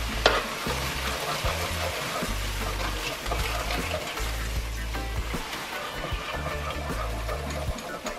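Orzo sizzles loudly in a pan while being stirred and deglazed, a bubbling hiss broken by repeated scraping and stirring strokes, close and steady.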